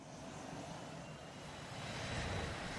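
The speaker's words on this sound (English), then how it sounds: "the plane is dropping like a brick, screaming towards the ground" A fixed-wing airplane in a falling leaf maneuver drops toward the ground, its engine giving a steady, loud, broadband roar that swells slightly toward the end, with no talk over it.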